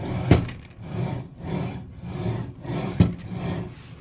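Makita 8.5-inch sliding miter saw head gliding back and forth along its bearing rails, a smooth repeated rubbing swish in several close strokes with two sharper knocks at the ends of travel.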